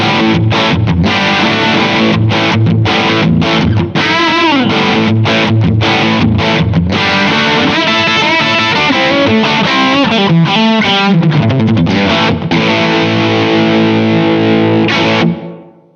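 Distorted electric guitar played through a Blackstar AMPED 1 on a crunch tone with the third cabinet simulation, loud sustained chords and riffs running continuously with brief choppy stops, no talking.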